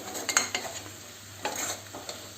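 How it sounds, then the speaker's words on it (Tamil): A spatula scrapes and stirs tomato egg fry in a pan, with a soft sizzle underneath and a few clinks against the metal, intermittent and close, no voices. "இப்போ கொஞ்ச நேரம் தொடர்ந்து நம்ம கிண்டிகிட்டே இருக்கணும்."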